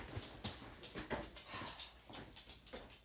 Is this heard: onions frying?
no